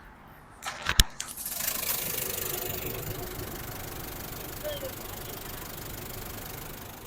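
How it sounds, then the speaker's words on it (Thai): A 2016 Isuzu MU-X 1.9 diesel cranks and catches with a few sharp bursts, then settles into a steady, moderately loud idle that carries on for several seconds with a brief voice at the start. "สียงเครื่องยนต์ปกตินะ"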